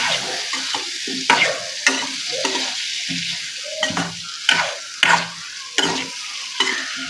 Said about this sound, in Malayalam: നന്നായി ഇത് ഇളക്കണം.